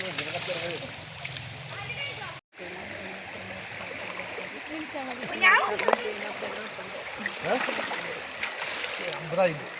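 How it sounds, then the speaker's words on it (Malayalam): Water splashes and sloshes in the shallows at a waterfall while a stream flows steadily, with people talking and calling out over it throughout. "ഇപ്പോൾ ഞങ്ങളിതാ വെള്ളത്തിൽ കളിക്കുകയാണ്"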